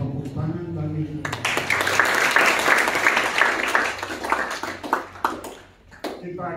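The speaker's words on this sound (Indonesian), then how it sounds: "Tepuk tangan bagi kita." Applause breaks out at a Sunday worship service at a theological college in Tawangmangu. The dense wash of clapping runs for about five seconds, then thins and fades.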